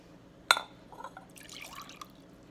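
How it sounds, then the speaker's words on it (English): Water from a measuring cup is poured into another cup: a sharp clink of glass, then a soft, short trickle and a few drips, quiet and close. "So I'm going to pour that into this cup."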